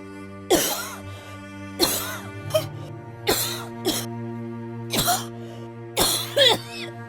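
Forceful coughing to clear a partially blocked, choking airway: six loud, harsh coughs come in separate bursts about a second apart, alone over a steady low background hum, with no talking.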